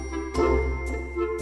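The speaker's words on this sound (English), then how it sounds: "The doorbell rang." A doorbell chimes indoors in a home, with three spaced ringing tones over a steady low hum, clear and fairly loud.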